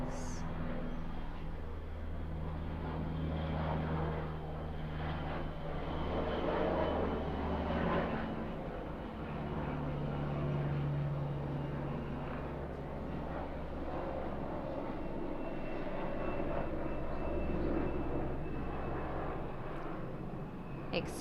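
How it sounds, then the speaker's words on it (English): A propeller or jet airplane passes overhead outdoors during a yoga session, a steady, broad low drone lasting throughout, moderately loud and constant with slight swells, with a low hum underneath. "Excuse the plane overhead"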